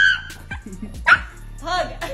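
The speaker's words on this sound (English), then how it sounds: "Have you ever seen a dog this dramatic?" A dog barks, yips and whimpers in short dramatic bursts up close, interleaved with a person talking over it.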